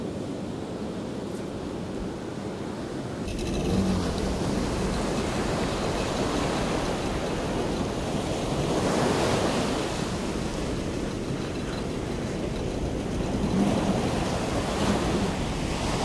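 Ocean surf at a lifesaving beach breaks in a continuous heavy roar, swelling in waves with wind buffeting the microphone and no talk.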